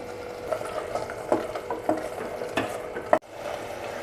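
A spoon scrapes through thick carrot halwa in a pan, mixing in cashews and almonds in slow, regular strokes, ending with one sharp knock against the rim.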